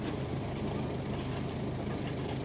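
A used car's engine idles at close range, a steady low rumble with a faint uneven pulsing throughout, no voices over it.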